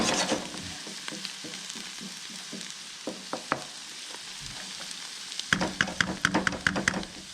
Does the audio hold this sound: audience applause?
no